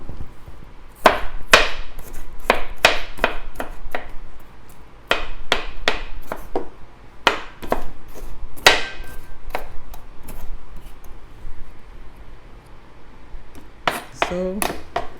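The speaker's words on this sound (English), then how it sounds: "I'm going to chop it into smaller pieces again." A knife chops plantain into smaller pieces on a board, a loud, uneven series of sharp wooden knocks in quick clusters with short pauses, close by; a voice speaks in between.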